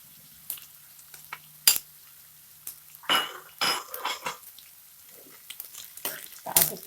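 Green beans being stirred in a pan for a tofu, beef skin and tauco curry, with intermittent scraping and clinks of a utensil against the metal, loud sharp knocks near the start and faint sizzling beneath.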